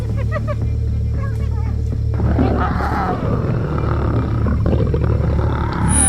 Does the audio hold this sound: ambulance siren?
no